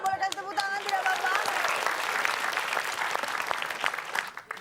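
Studio audience applause on an Indonesian game show, loud dense clapping that swells in and holds steady for several seconds, with a brief tonal voice-like sound at the start.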